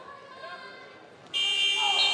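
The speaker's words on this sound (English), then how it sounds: "There's the buzzer." A loud, steady electronic buzzer ends a period in a boys' high school wrestling match between Oregon and Whitewater. It cuts in abruptly after a stretch of quieter gym ambience and holds to the end.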